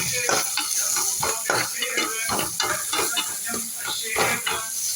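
Shallots frying with salt in a pan, a steady close sizzle and hiss with rhythmic scraping and stirring strokes throughout.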